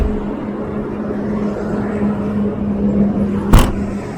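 A family car cruising on a highway at night, a steady close engine drone and road rumble with a brief sharp knock near the end.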